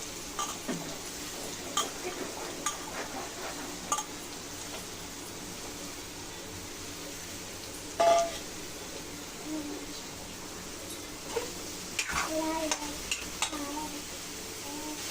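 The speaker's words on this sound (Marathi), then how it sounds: "आता हे फ्राय करायचे." Soaked, drained soybeans fry in hot oil with a steady, faint sizzle, broken by occasional spoon clinks and stirring, while someone talks over it.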